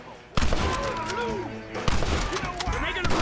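Gunfire erupts in Red Dead Redemption, with loud cracking volleys of overlapping shots in two main bursts while voices shout underneath.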